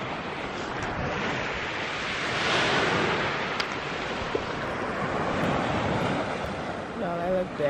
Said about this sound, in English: So we finally made it to the beach.